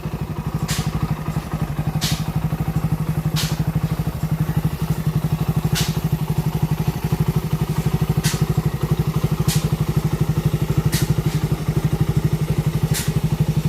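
A Rider 150 carbureted motorcycle engine runs close by at a steady, even idle, with a regular thumping pulse and periodic sharp clicks, and no talking.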